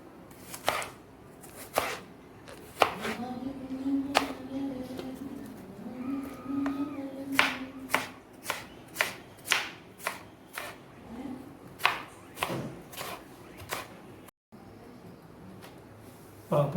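A knife chops jackfruit bulbs on a board in a home kitchen with crisp, close, irregular strikes. They begin sparse, then settle into a quicker rhythmic run of chops, with faint bird calls in the background.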